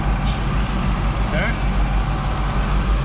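A Caterpillar 613C paddle wheel scraper's diesel engine rumbles low and steady in low gear, with a faint hiss partway through and a person talking nearby.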